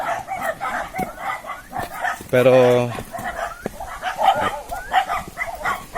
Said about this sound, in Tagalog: So may mga naririnig po kaming mga tahol ng aso.